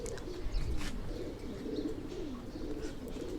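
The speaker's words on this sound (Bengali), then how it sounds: "যে উড়ানোর কবুতরের একজোড়া বেবি হইছে।" Pigeons in a home loft coo steadily in soft, low, repeated throaty calls, with occasional faint chirps and background noise around them.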